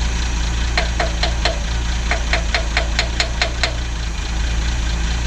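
An old Ford Falcon engine idles steadily while a rapid run of regular clicking or tapping knocks sounds over it for a few seconds, then the engine drones on alone.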